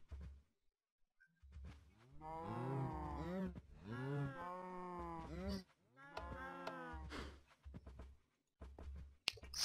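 Cows in Minecraft moo repeatedly, several drawn-out lowing calls in close succession, fairly loud and near, with short pauses and a click near the end.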